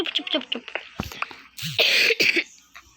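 A few sharp coughs burst out, close and loud, after a stretch of quieter movement and breathy sounds.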